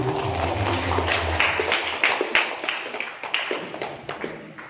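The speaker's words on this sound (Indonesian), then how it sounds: "Tepuk tangan." Steady clapping from an audience at a plenary session, following a symbolic handover on stage; many hands clap at once, fairly close, fading slightly toward the end with no speech over it.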